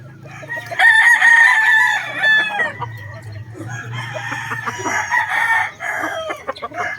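A pumpkin hatch gamefowl rooster crows twice, long loud calls close by, with a little clucking between them and no talk.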